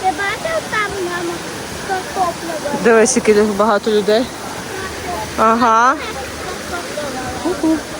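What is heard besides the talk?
Zhenetskyi Huk waterfall in the Carpathians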